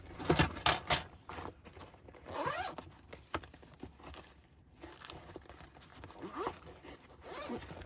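A zipper on a bag is pulled shut in several quick rasping strokes, close and crisp, mixed with light handling rustles and pauses.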